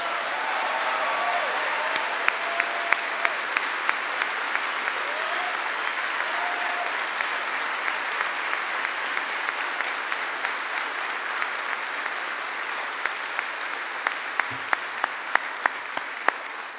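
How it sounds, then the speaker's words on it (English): Audience at a Veterans Day ceremony in South Korea gives veterans a sustained round of applause, a dense wash of clapping lasting throughout with scattered sharper claps near the end and faint voices beneath. "But please give them a big round of applause."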